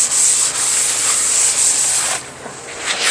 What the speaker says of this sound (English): gotta scrape that pan there